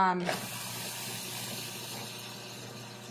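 A Cuisinart Custom 14 food processor chopping cilantro, a steady loud whirring buzz that starts abruptly after a brief pause and runs continuously, close up, with no talk over it.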